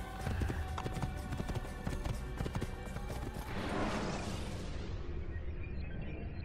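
Horse hooves clip-clopping in the video game Assassin's Creed, a steady, loud trotting rhythm, with a rushing sweep of game sound near the end.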